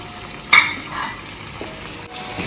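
Saltfish and tomatoes fry in a hot pan with a steady, close sizzle, and a sharp clatter of stirring near the start.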